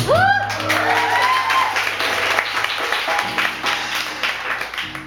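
Audience applause fills a café concert, a dense burst of clapping that starts loud and slowly thins out, with a few voices and scattered sounds mixed in.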